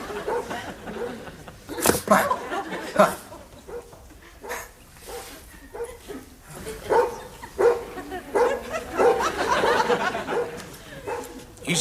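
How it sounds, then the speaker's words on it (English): A dog barks and yips in short irregular bursts while people talk over it, the barks fairly close and varying in loudness. "Good dog."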